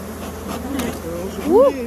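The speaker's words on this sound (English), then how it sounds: "Shake the bees over here." Honeybees buzz as they are shaken off a hive frame while splits are being made. The close, steady hum swells into a brief louder buzz near the end, with faint voices in the background.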